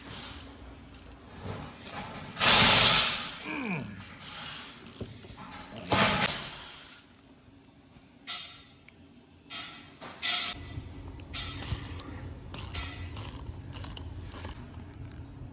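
A 3/8 ratchet tightening port plugs on a brake caliper for a drag brake setup on a 1300hp Integra, with bursts of quick clicking pawl strokes, a few louder clunks, and quieter fiddling between them, close up.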